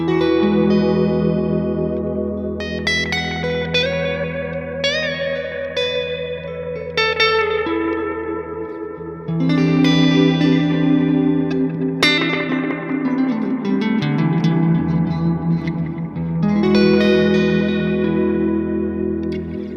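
Electric guitar notes and chords ringing out through a dense, echoing dual bucket-brigade delay pedal set to a golden ratio, repeats smearing into an ambient wash.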